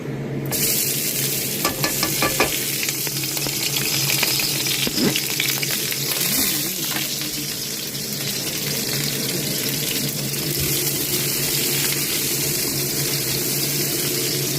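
Ginger, onion and garlic sautéing in oil in a pan, a steady close sizzle with scraping stirs and a few clinks running throughout.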